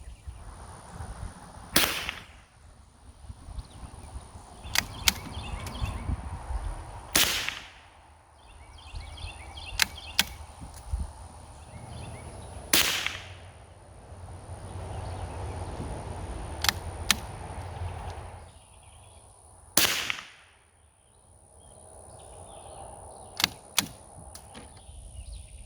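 Sharp single .22 rimfire rifle shots fired with Eley Black Box match ammunition, loud and evenly spaced every few seconds, with fainter distant reports from other shooters in between.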